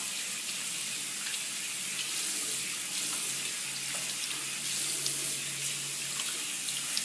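A bathroom water tap runs steadily while a face mask is rinsed off, a continuous close hiss of flowing water splashing into a sink, with no talking.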